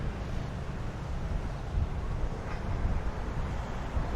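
Wind gusts across a street in Gibraltar, a steady low rumble buffeting the microphone with no voices over it.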